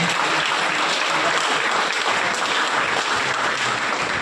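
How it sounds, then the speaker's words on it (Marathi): Loud, steady applause from a rally crowd at a Maharashtra Navnirman Sena student-wing gathering in Shirpur, welcoming Amit Thackeray. Dense, continuous clapping fills the whole stretch with no pauses. "म्हणून त्यांच्याकरता जोरदार टाळ्या झाल्या."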